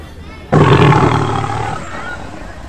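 A tiger roars as a sound effect: one loud, sudden, throaty roar bursts in and slowly fades into a rough, rumbling tail.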